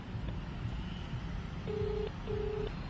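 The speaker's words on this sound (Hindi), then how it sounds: "इनके फ़ोन पे घंटी ज़रूर जा रही है" Two steady ringback tones sound over a low rumbling background, each lasting about half a second with a short gap between them.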